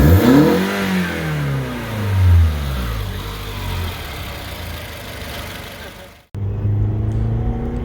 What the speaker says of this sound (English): so let's give it a couple of revs